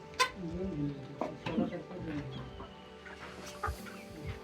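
Village desi chickens clucking softly on a farm, a scatter of short clucks and low calls at moderate distance, fairly quiet, with a faint voice now and then.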